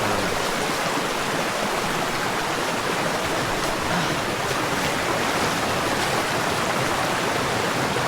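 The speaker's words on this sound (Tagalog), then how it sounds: "Yan, ito yung ano, Ipo River. Part to ng Ipo River. Yung malaking ilog na to." The Ipo River, a large river near Montalban, rushes continuously in a broad, steady wash of flowing water heard close and evenly throughout, with no voices.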